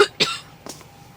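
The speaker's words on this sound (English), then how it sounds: "I'm going to be coughing until like a month because cough does last to go." A person with a lingering cough coughs two or three times in quick succession, close and loud, with quiet room tone between the bursts.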